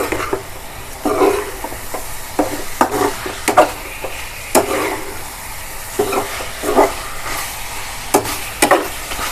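Chicken pepper fry stirred in a pan, a spoon scraping and clacking in irregular bursts over a steady close sizzle, with no voices.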